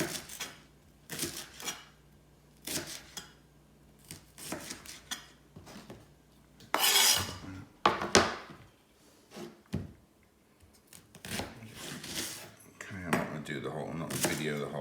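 A knife chops leeks into half-inch sections on a cutting board, a series of irregular sharp knocks and taps, fairly quiet and close, with some louder clattering bursts and scraping between cuts.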